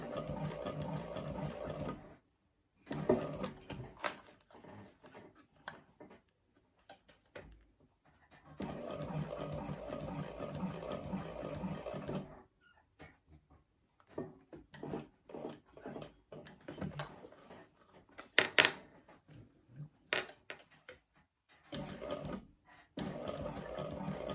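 A sewing machine stitches through a thick crossbody strap with die-cut strap ends, running in several bursts of steady rapid whirring separated by short pauses, close and clear with no talking.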